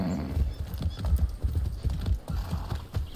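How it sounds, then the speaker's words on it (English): Steady clip-clop of horse hooves trotting at a moderate pace, close and clear, with no talking, in the video game Far Cry 6. "There's another horse there."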